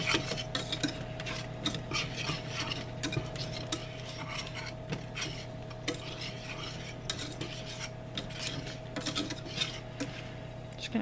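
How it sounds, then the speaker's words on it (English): A utensil stirs and scrapes steadily in a pan of melting chocolate on a switched-off stove, a continuous close scraping and clinking that runs throughout with a faint steady hum beneath. "Just going to keep stirring until all of your chocolate is melted."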